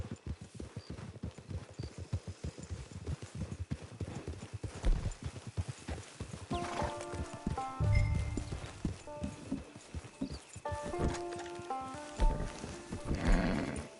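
Horse hooves clip-clop in Red Dead Redemption 2 Online: a steady clatter of hoofbeats with a brief whinny, under soft game music.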